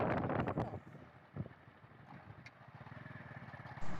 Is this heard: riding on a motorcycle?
yes